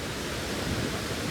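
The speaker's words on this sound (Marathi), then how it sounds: "फायनली आम्ही पोचलो आहे सवतकडा धबधब्यावरती" Savat Kada waterfall near Rajapur roars as a dense, steady rush of falling water, loud and close, filling the air without any voices.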